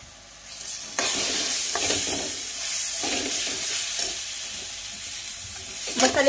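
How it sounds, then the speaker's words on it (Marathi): Paneer masala is stirred in a frying pan: a loud, close sizzle rises suddenly after a short quiet moment, with repeated spatula scrapes breaking through the hiss. "पनीर मसाला घालून झालेला आहे आणि छानपैकी आपल्याला असं मिक्स करून घ्यायचं आहे याला"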